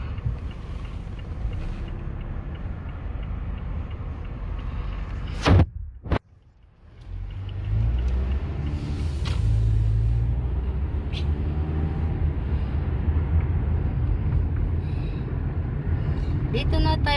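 Cars and other vehicles drive past on a busy city street near East 41st among large buildings, a steady rumble of traffic with a loud whoosh of a close passing vehicle midway and a brief lull before the noise builds again.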